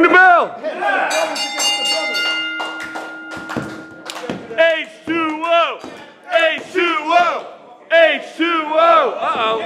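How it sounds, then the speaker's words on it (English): A ringside bell rings out at a live hardcore wrestling show, its lingering tone sounding over a loud crowd that chants rhythmically and cheers throughout. "Ring the bell!"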